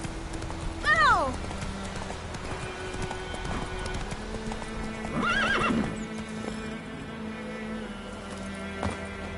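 Roach, the horse in The Witcher video game, gallops with rapid clip-clop hoofbeats and whinnies loudly twice over the running hooves, with a faint ambient drone beneath.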